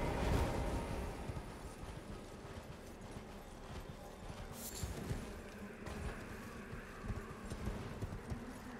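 Horse hooves gallop steadily in the video game Elden Ring, a continuous rhythmic clip-clop that runs the whole stretch at moderate level with no talking over it.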